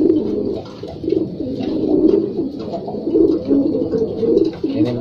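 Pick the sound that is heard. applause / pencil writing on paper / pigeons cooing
pigeons cooing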